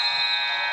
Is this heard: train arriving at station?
no